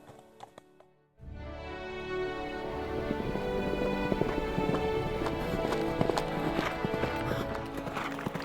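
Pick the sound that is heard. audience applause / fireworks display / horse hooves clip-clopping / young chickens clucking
horse hooves clip-clopping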